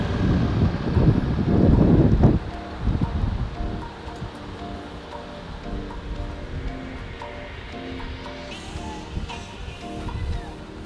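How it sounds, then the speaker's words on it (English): Wind gusting outdoors on a cold day while leaving the Florida Keys, a loud rushing buffet for the first two seconds settling into steady broadband rumble, with faint rustling underneath. "It's windy and cold."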